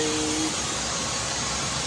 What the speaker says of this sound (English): I'm gonna turn off the